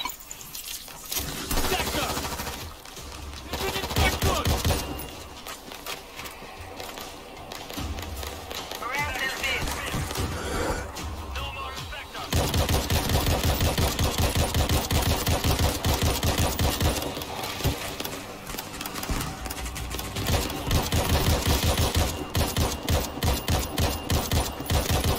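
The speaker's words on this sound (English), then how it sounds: "We're hearing gunfire from the river" Rapid bursts of gunfire and explosions from the video game World War Z rattle continuously, mixed with voices talking over the action.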